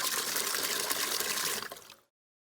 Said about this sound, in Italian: A questo punto faccio sgorgare un po' di acqua da caricare la mia